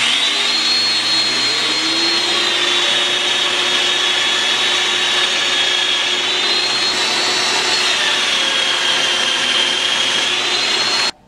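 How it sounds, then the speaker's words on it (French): A domino joiner cuts mortises into wood boards, giving a loud, steady motor whine over a hissing dust-extraction roar that runs unbroken for about eleven seconds, then cuts off abruptly. "je m'enligne sur mes petites lignes et je perce."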